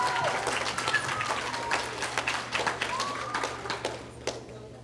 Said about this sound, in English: Let's give a thunderous applause to all of the boys and girls